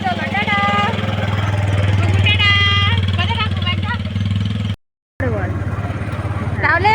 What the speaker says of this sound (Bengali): ওই পাপার বাইক চলে এসেছে